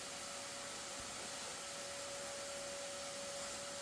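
Household vacuum cleaner running steadily as it sucks yellow jacket wasps off a bedroom window, a constant broadband whine with a strong fixed tone throughout, loud and close, with no voices.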